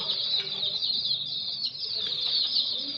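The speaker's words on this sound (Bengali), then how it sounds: "তোমাদেরকে একটু মুরগি বাচ্চা দেখাই দেখো" Baby chickens give a steady, dense high-pitched peeping chorus that runs without a break, fairly close, with a few fainter bumps and rustles underneath.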